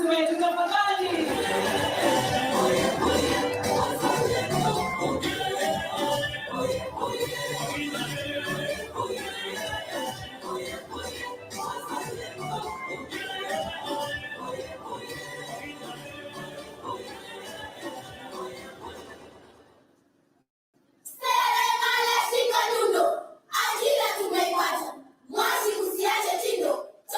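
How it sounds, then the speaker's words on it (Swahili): An audience at a Mashujaa Day celebration in Kwale claps for students, sustained loud applause that fades after about twenty seconds, followed by a short burst of talk. "Tuwape makofi mazuri tena wanafunzi wetu tafadhali"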